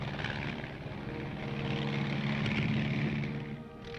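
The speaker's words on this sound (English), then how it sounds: "Among the aircraft used are the L-19" An L-19 propeller-driven observation plane flies past, its engine a steady, moderately loud drone that swells slightly in the middle and eases off toward the end, with no talking over it.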